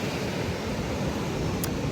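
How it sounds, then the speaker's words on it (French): Steady broadband wash of surf on a beach, continuous and moderately loud with a wind-like hiss, one brief high hiss near the end, no voices. "Là, on est à la plage."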